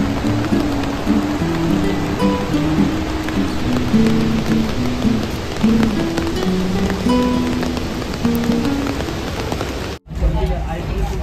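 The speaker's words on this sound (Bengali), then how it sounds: "ভালোই বৃষ্টি হচ্ছে।" Heavy rain falls during a ride on the Kuranda Scenic Railway near Barron Falls, Australia, a dense continuous patter close by, with voices murmuring underneath and a brief dropout near the end.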